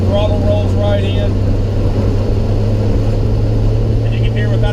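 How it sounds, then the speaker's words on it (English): A truck engine lugs down in fourth gear as the throttle rolls back, a steady loud low drone with no backfiring, spitting or hesitation, heard from inside the cab with wind and road noise. "you can hear as I roll back in the throttle, the truck lugs down, but it doesn't backfire, it doesn't spit, it doesn't hesitate"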